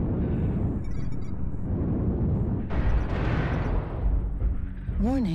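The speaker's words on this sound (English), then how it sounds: "Warning, incoming missile." Missile explosions boom in a mech combat video game, producing dense, loud rumbling blasts over continuous battle noise, with a synthetic warning voice and electronic tones sounding through.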